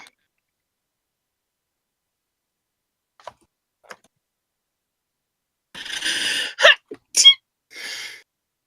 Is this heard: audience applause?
no